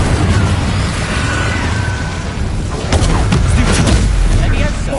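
An Incendio fire spell is cast in the video game Hogwarts Legacy, a loud, dense roaring blast with sharp bursts and crackles around the middle, filling the whole stretch.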